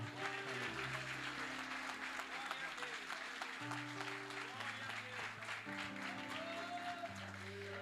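A church congregation claps during a missions congress service, with sustained applause running beneath sustained music tones and some voices throughout.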